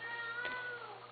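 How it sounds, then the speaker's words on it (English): A single short, faint meow from a small playful kitten, a thin rising-and-falling cry heard close by and alone against quiet room tone. "playful, wild little kitten."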